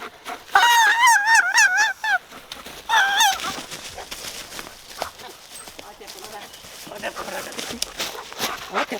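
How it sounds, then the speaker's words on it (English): Grass blade whistle blown between the thumbs outdoors in spring woods, giving a few shrill, wavering squawks in short bursts early on, followed by quieter rustling and handling noise. "If you take a piece of grass that's a bit wide and you put it between your thumbs like that"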